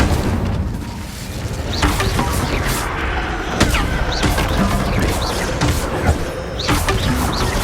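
A fire spell, Incendio, cast in the video game Hogwarts Legacy: a series of loud, close whooshing booms and crackling bursts in quick succession over a dense, rumbling background.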